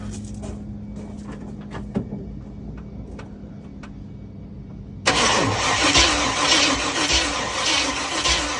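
A 1967 Chevy Impala engine, valve cover off, sputters unevenly with sharp pops, then roars louder and steadier from about five seconds in, close and harsh.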